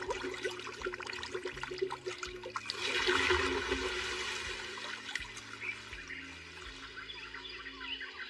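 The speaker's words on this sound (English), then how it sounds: "Water, come forth." Summoned magical water gushing forth in an anime scene, a steady rushing pour that swells in the middle and runs on under a low held musical tone, with no voices.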